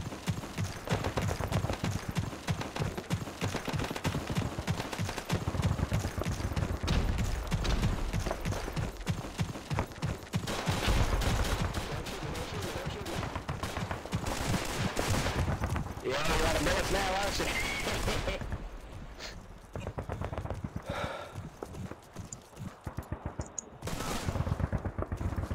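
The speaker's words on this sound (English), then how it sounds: "Help me! I'm getting shot!" Video game battle in a realism event, with rapid machine-gun bursts and single gunshots crackling in dense rhythmic volleys, fairly loud and continuous before thinning out near the end, with players talking over the firing.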